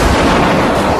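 A flashbang stun grenade blast, a single loud, dense burst of broadband noise that fills the whole short moment with no speech around it.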